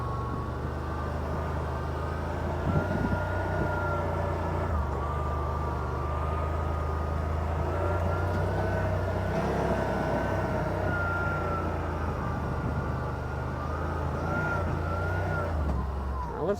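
A 2025 Yamaha RMAX4 1000 side-by-side rolls around a yard, its engine a steady, continuous drone with low harmonic tones that shift slightly in pitch as it moves, running alone throughout without talk.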